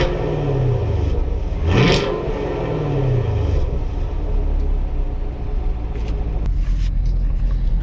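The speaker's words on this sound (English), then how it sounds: "we'll get a quick sound clip of the engine revving" A 2016 Chevrolet Camaro 2SS with dual-mode exhaust blips its engine in two quick revs close by, each rising and falling over a steady deep idle rumble.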